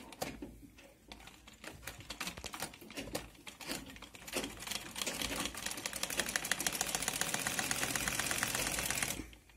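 A sewing machine stitching fabric, double-stitching on the reverse side, starting with short stop-start bursts of rapid needle clatter, then running steadily at speed for several seconds before stopping abruptly; close and clear, no talking.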